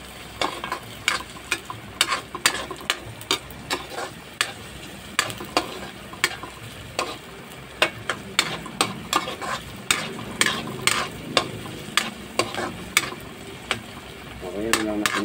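Onions sauté in a pan for bopis while a spoon stirs and scrapes in a regular rhythm, knocking sharply against the metal over a steady sizzle, close and fairly loud, with a faint voice near the end.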